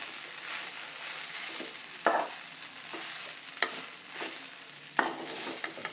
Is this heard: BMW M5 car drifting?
no